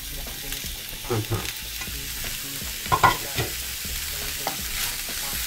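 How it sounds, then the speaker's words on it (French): Steady sizzling of bell peppers sautéing in a pan, with a few louder clinks and scrapes of stirring scattered through. "dans la même casserole qu'on a utilisée pour cuire la viande, on va faire revenir les poivrons"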